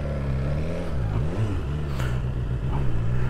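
A BMW S1000R Sport motorcycle engine revs with a deep, close rumble, its pitch dipping and rising once before settling into a steady throaty drone, with no speech over it.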